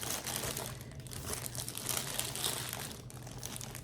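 Plastic packaging from a Kensington MK7500F QuietType Pro silent mechanical keyboard is handled up close, giving soft, continuous crinkling and rustling at low volume.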